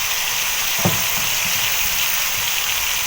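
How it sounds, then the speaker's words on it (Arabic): Chicken pieces sizzling loudly as they are sautéed in a pan, a steady crackling fry broken by a few scraping stirs. "ودلوقتي بقى هستمر في تشويح الدجاج لمدة 5 دقايق مع استمراري في التقليب على كل الجهات"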